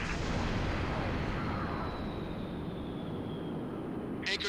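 A heavy, booming shot in the Halo: Reach video game rolls out as one sustained, rumbling blast that lingers loudly throughout before a faint click at the end.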